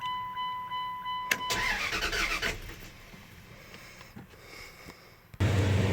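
A 1999 Dodge Ram 1500 cranks over with a whirring starter for a few seconds, sputters, then catches and settles into a loud, steady idle up close.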